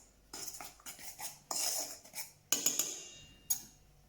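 A utensil scrapes and clinks against a bowl while plain flour and icing sugar are mixed for a chocolate tart pastry, producing several light, close, irregular taps.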